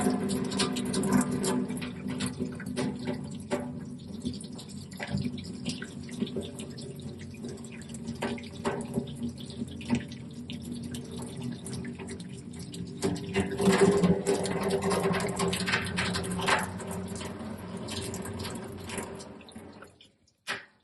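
Water pours from a DmofwHi double-walled stainless steel electric kettle in a soft, steady trickle that swells briefly partway through, then cuts off abruptly at the end.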